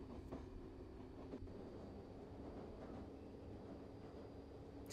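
A train in Euro Train Simulator rolls steadily along the track at speed, a continuous rumbling clatter with faint wheel clicks and no talk over it.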